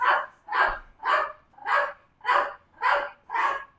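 A dog barks seven times in a steady, evenly spaced rhythm, each bark loud, close and clear with nothing else heard between them.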